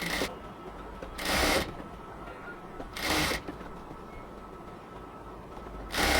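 A sewing machine stitches a baby's short pants along half-inch elastic, giving three short, even bursts of rapid stitching spaced a couple of seconds apart over a low, steady background hum.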